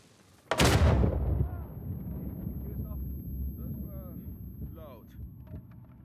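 A loud, sudden dynamite blast in Uncharted 4: A Thief's End erupts and rumbles on into a long, rolling roar of debris and echoes, with game sound effects and distant chatter underneath.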